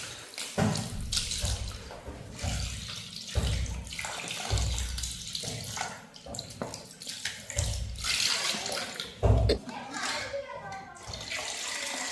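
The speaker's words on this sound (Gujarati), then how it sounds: "હવે ઠંડા પાણી ધોઈ લઈશું" Cold tap water runs and splashes in uneven bursts as paneer is rinsed by hand, with a voice talking intermittently in the background.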